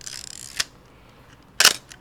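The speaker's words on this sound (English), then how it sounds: "let you hear the shutter on this thing" Two sharp mechanical clicks from a film camera, a crank winding then the shutter releasing about a second later, close and isolated in a quiet room.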